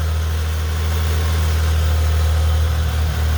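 A 1991 Metro car engine idles steadily and close by, giving a constant low hum with a faint rapid vibration and no voices.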